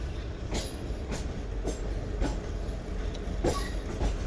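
Aboard the Pak Business Express pulling slowly from Lahore Junction, a loud steady rumble fills the carriage while evenly spaced wheel clacks over rail joints punctuate it every half second or so.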